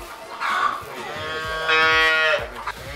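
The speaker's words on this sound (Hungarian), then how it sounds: "Hát ezek valami csodaszépek, ezek a szarvasmarhák." Cattle low in a pen where cows stand with calves only a few days old; two long, loud, close moos follow one another with no people talking.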